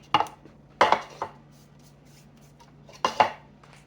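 Garlic being chopped on a board for shrimp and crab chowder, three quick clusters of sharp knife taps against the board, close and fairly quiet, separated by brief pauses and with no talking.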